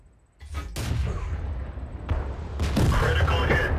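A tank gun fires in the World of Tanks video game: several heavy booming shots and blasts in quick succession, loud and close, with a rumbling tail between them.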